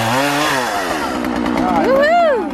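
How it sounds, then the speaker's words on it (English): Chainsaw cutting a tree outdoors, a steady buzzing drone with a revving rise near the end, close and loud while people talk over it. "Look at the chainsaw."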